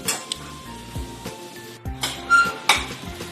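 Maggi noodles are stirred in a pan with a utensil: close scraping and clinking strokes over a soft sizzle, with irregular metallic knocks against the pan.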